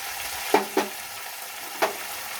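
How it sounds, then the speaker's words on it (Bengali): Onion paste frying with cumin, coriander and ginger pastes for prawn malai curry, a steady sizzle of hot oil broken by three short scraping stirs of a spatula against the pan. "এবার আমি এগুলো একে একে সব ভেজে নেব"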